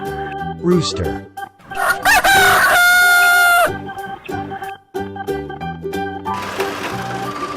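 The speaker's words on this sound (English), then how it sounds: "Rooster." A rooster crows once, loud and drawn out, in a children's farm-animal nursery song, with bouncy backing music continuing before and after the call.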